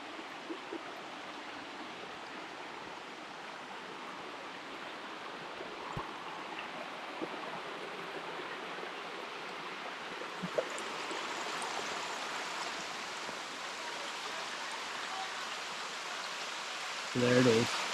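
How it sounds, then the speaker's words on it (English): Small Likeke Falls waterfall and stream in Hawaii give a soft, steady distant rush of flowing water throughout, with brief faint knocks near the end. "Just a waterfall."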